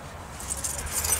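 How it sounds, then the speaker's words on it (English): Keys jangling close by in the cab of a Dodge Ram pickup truck, a bright metallic rattling that grows busier toward the end, alone without talk. "I got my keys here."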